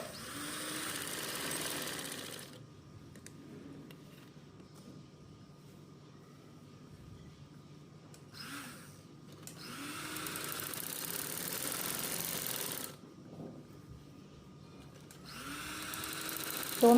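Sewing machine running straight seams on a shalwar, heard in bursts of quiet whirring stitching separated by silent pauses, fairly faint and close.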